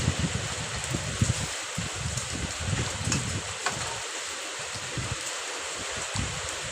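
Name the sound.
heavy rain with wind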